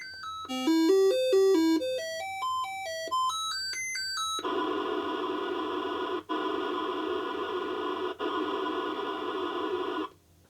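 A Commodore 64 SID chip test: rapid electronic beeps step through ascending and descending pitches, then a sustained buzzy synthesized tone holds with two brief dropouts before cutting off.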